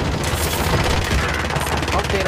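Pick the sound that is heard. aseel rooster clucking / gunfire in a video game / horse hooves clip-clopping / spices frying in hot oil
gunfire in a video game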